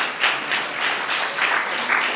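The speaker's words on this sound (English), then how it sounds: "That was Renata's mom clapping." A single person claps at a church gathering, a handful of soft, evenly spaced claps in a quiet room, with no talking.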